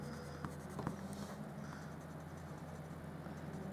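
Soft, steady scratching of a coloured pencil on paper, close and quiet, over a constant low hum.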